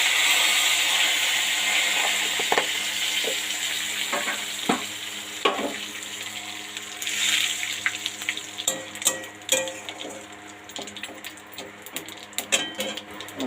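Cumin seeds and bay leaf crackling in hot oil in a wok, a steady bright sizzle broken by sharp pops and stirring clatter toward the end, no voices.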